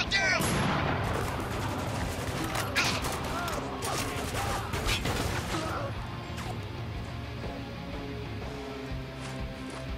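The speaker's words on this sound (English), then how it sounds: "Need a flashbang on those hostiles. Yeah, throw one over there." A flashbang tossed at hostiles during a firefight in the video game Spec Ops: The Line: a loud, dense burst of bangs and gunfire at the start that fades into a lingering ringing rumble.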